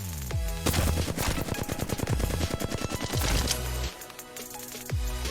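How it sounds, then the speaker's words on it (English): Rapid automatic gunfire from the video game Apex Legends during recoil practice at a tower target, several loud sustained bursts separated by short pauses, alone with no talk. "For recoil control, this target on the tower is where you're going to want to start with all your guns."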